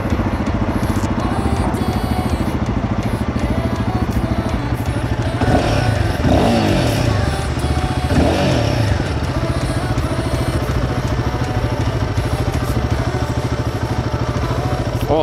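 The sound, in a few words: motorcycle engine running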